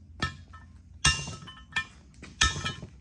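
Metal-on-metal strikes as a socket is hammered against a ring in a Ford 8 inch axle, four sharp ringing clanks spaced about a second apart, close and loud with short decays.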